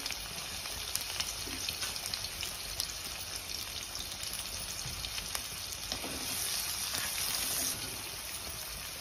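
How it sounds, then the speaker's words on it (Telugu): Onions sizzle in hot oil in a pan, a steady, soft crackling hiss with faint pops that swells briefly near the end. "ఆయిల్ హీట్ అక్కగానే ఆనియన్స్ వేసుకోండి."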